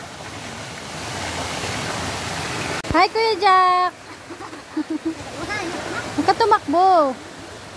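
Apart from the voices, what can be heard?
waterfall at Camp Mahogany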